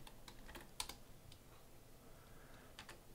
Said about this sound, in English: Typing and talking at the same time is particularly difficult for me.